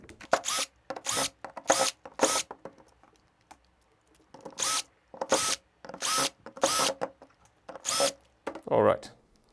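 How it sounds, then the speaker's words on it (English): An electric drill is run in short repeated bursts to back out screws from a gearbox shell, about ten close whirring pulses with brief pauses between them. "For this, I will use an electric drill so that we don't grow old here unscrewing all of them."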